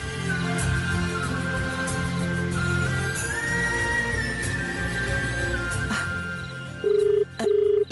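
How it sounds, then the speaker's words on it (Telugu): A telephone rings at the home of a woman named Mangamma in a Telugu TV serial. Continuous tonal ringing runs steady and moderately loud through the clip, with a faint hum underneath and two short electronic beeps near the end. "ఫోన్ రింగ్ అయిందే"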